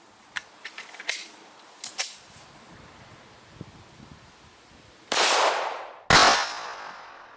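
Outdoors, a 9mm gunshot strikes a level 4 armor plate, two loud sharp cracks with decaying tails near the end, preceded by faint rustling and small clicks.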